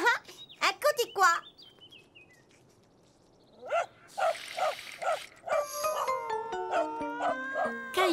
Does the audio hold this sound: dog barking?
yes